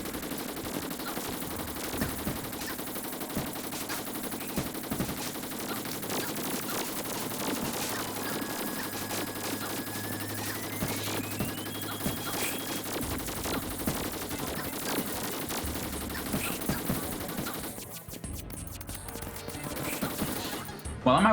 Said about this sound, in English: I can hit multiple segments of the body with just one shot from the Shadow Beam Staff